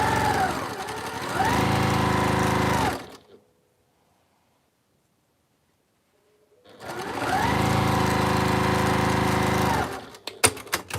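A sewing machine stitches quilt squares together in two loud, steady runs separated by a few seconds of silence, followed by a few sharp clicks near the end.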